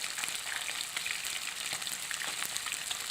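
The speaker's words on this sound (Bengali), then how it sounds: "কাতল মাছটিকে ভেজে নিতে হবে একটু সুন্দরভাবে" Katla fish frying in very hot oil, a steady crackling sizzle with dense popping spatters that continue evenly throughout, close and fairly loud with no talking.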